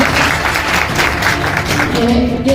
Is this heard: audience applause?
yes